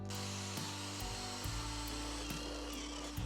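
A power tool drives lag bolts into the metal body of a skoolie school bus while a mini split air conditioner is being installed, giving a steady close, loud whirring drone with several brief pauses and shifts in pitch, and no talking.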